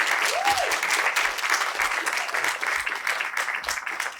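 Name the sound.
audience applause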